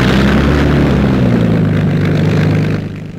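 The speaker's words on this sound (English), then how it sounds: "Engines burst into life." RAF Hawker Hurricane fighter engines roar loudly and steadily at close range with a deep droning propeller hum, fading slightly at the end.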